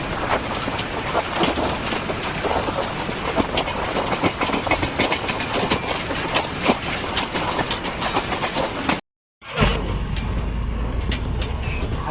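A train running at Ambivli station, with a loud, continuous rumble and rhythmic clickety-clack of the wheels on the rails. Near the end the sound cuts out for a moment, then resumes.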